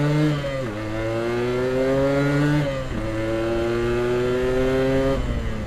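A 2008 Yamaha RX King two-stroke motorcycle revs close by in long rising pulls, its buzzy, harmonic-rich exhaust climbing in pitch, dropping briefly, then climbing again, loud and sustained with no talk.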